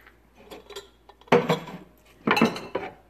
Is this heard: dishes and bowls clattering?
yes